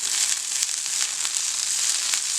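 Roughly a cup of fresh fenugreek leaves fries and is stirred in a pan for paneer methi masala, making a bright, hissing sizzle with light crackles that stays steady and close, without speech.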